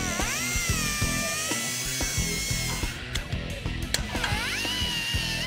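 A power tool trims the rear end brace of a rusted 1961 Chevy Impala for shock clearance, grinding steadily and loudly with a continuous high whine that dips and rises as the cut changes, heard alone.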